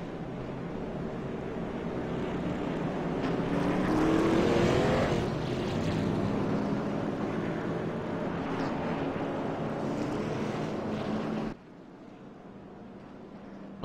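Racing trucks roar around an oval race track in a steady, loud engine drone, with one vehicle's pitch sweeping upward as it passes before the sound drops off sharply near the end.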